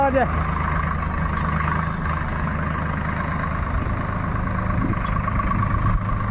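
A tractor engine runs steadily at idle, a close, low rumbling drone that continues without pause, with people talking over it.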